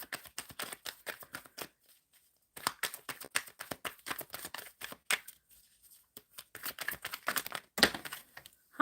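Tarot cards being shuffled by hand in quick bursts of crisp riffling and slapping, close and soft, with brief pauses between rounds and no voices.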